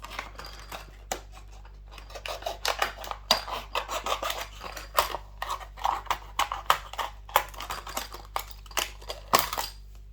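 A knife slices open a cardboard Maggotkin of Nurgle Vanguard miniatures box at a kitchen table with no cutting mat, giving irregular close scratchy cuts and rasps over a low steady hum.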